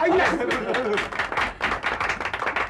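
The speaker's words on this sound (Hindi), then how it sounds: "जरा तालियां तो बजाइए।" A small group claps for a few seconds in a comedy show setting where a cake has been brought, the claps quick and uneven, mixed with voices and room noise and trailing off toward the end.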